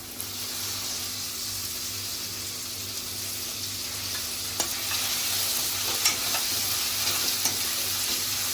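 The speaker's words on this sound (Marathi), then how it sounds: "टोमॅटो अगदी थोडा परतून घ्यायचा आहे" Onion and tomato sautéing in a pan for a methi bhaji, a steady close sizzle with spatula stirring and a few sharper scrapes toward the end, no talk.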